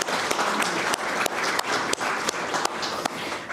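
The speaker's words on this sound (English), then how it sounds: "let's give him applause" A conference audience claps for Lukas Wieczorek, dense continuous applause with a few sharper individual claps standing out, steady and fairly close throughout.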